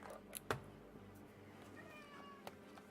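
A cat gives a faint, short meow, distant and quiet against a low steady background hum, with a couple of small clicks around it.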